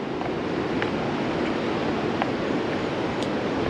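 Big ocean waves break on Melasti Beach, where people are surfing, producing a continuous broad wash of surf with faint brief higher splashes, steady and moderately distant.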